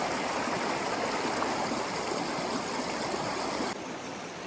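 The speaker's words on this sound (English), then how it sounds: "Already, we have a seasonal waterfall flowing right into the river." A seasonal waterfall pours into a river along an overgrown Los Padres trail near Santa Paula. The rush of water is steady, close and broadband, with no voices, and it drops slightly in level near the end.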